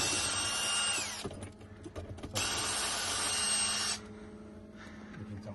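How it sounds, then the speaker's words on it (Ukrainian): A cordless screwdriver unscrews screws from a sauna in two loud, close whirring bursts, each spinning down. A short pause with clatter and handling noise separates them, and a fainter whir follows. "Бажано, щоб у вас був шуруповерт. І ну, ось таким чином зараз викручуємо."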